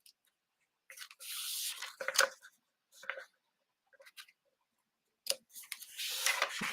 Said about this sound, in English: take my snips and give it a little trim